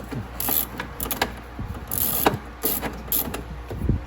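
A 10 mm socket on a ratchet loosens a bolt on a McLaren car battery, with quick bursts of dry clicking pawl at close range separated by short pauses. No one speaks.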